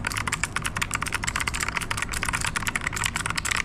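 Compact RK mechanical keyboard typed on quickly, a dense stream of sharp clacking keystrokes, close and steady, with no voices over it.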